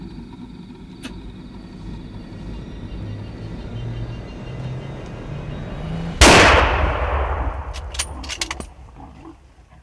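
A rifle shot fired at a leopard feeding at a bait in the bush: one sharp, loud crack hits suddenly after several seconds of quiet outdoor ambience, then trails off into a fading echo.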